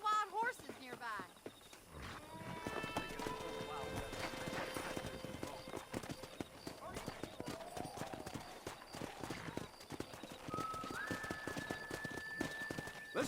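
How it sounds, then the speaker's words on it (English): Wild horses galloping in Red Dead Redemption, with dense clip-clopping hooves through most of the scene and a neigh or whinny near the start, mixed with game music and ambient noise. "That ranch hand said there's a pack of wild horses nearby."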